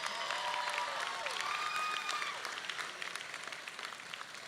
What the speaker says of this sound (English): Now you can clap for all 3 of them.